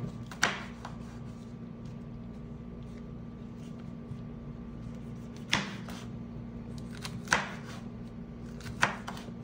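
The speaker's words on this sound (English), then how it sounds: "I'm not going to chop these up too fine" A knife chops vegetables for a pasta salad on a cutting board, with a few sharp isolated thuds spaced seconds apart over a steady background hum, close and without talk.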